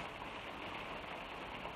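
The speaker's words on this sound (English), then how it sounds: "Just as it started to rain, you can probably hear it on the roof." Rain coming down heavily on a roof, a faint, even hiss of dense patter heard from indoors, steady throughout with no voices.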